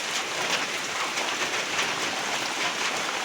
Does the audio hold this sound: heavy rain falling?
yes